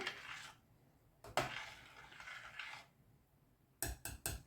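Soft scraping and clinking of a utensil stirring mushroom soup with thin noodles in a metal pot, with a few quick metallic knocks near the end.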